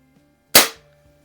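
One sharp crack from a Crosman Fortify air rifle, close and loud, decaying within a quarter second into near silence.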